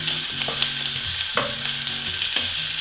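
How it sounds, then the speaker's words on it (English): Sausage, mushrooms and onions sizzle and fry in a pot while being stirred, a steady loud crackle with scraping spoon strokes recurring every second or so throughout. "Just go back to stirring it for a little bit."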